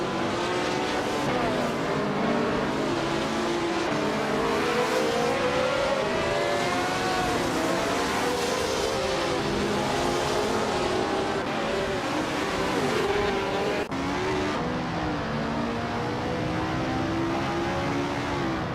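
Race cars charge off the start in a dense, continuous roar of engines, several rising and falling pitches overlapping as the pack accelerates and jostles, loud and close throughout.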